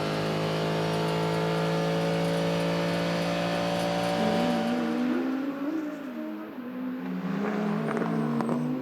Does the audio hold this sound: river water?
no